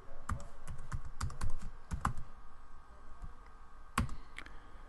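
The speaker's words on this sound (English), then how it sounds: "I can type the formula, my formula, in the formula bar as follows." Quick, light keystrokes on a computer keyboard as a formula is entered in an Excel formula bar, irregular bursts of close clicks with short pauses, quiet and alone.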